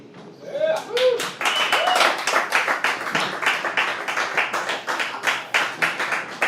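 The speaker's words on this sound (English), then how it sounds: "Your applause sustains me." Live comedy show audience in Chicago breaking into sustained, dense applause with scattered claps and some voices mixed in, loud and close, carrying on for several seconds after a set piece.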